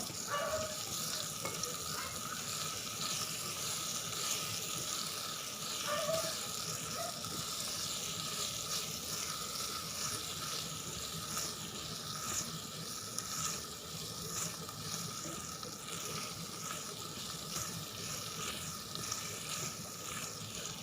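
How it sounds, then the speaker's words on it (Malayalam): Chopped potatoes fry with sautéed onions in a pan, giving a steady, moderate sizzle that runs unbroken for about twenty seconds with faint occasional stirring clinks. "സവാള വഴണ്ട് കഴിയുമ്പോൾ അതിലേക്ക് അരിഞ്ഞു വെച്ചേക്കുന്ന ഉരുളക്കിഴങ്ങ് ഇട്ട് കൊടുക്കാം"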